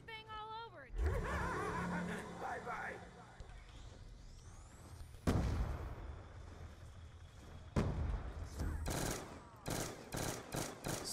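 Bursts of gunfire crack in a Call of Duty Black Ops 2 zombies match on the Buried map, with sharp shots near the middle and a rapid cluster toward the end, mixed with game effects and a voice.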